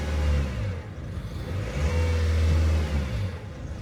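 A Citroën Berlingo engine runs close by with a loud low throb that swells as it revs, rising and easing over a few seconds with no one speaking.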